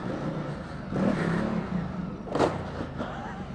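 Heavy 230 kg KTM 1290 Super Adventure R or Ducati Multistrada Enduro adventure motorcycle on a supercross track, engine rising and falling in revs with a sharper surge near the end, fairly close.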